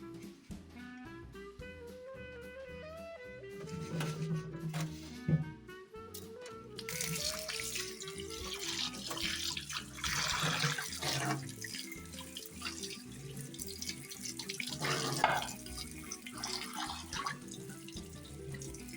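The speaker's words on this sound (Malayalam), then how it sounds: "എന്നിട്ട് ഒരു ശീല യൂസ് ആക്കിയിട്ട് നന്നായിട്ടൊന്ന് കഴുകിയെടുക്കുന്നുണ്ട്." Water runs steadily from a tap while a clay pot is scrubbed with ash and a cloth, splashing and trickling with occasional knocks against the pot, set against soft background music; close and fairly quiet, no talking.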